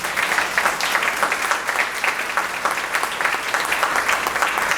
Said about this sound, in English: Let's give one more round of applause to all of our contestants.